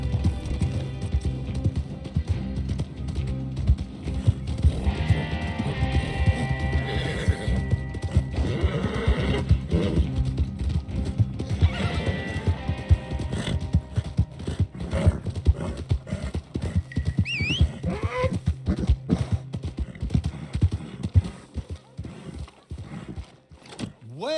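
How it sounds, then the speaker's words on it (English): In the Red Dead Redemption 2 video game, horses' hooves clip-clop steadily and neighs and whinnies ring out, loud and close, over a busy outdoor soundscape with occasional speech. "Get that horse hidden away, Clive, and ready to move out as soon as we"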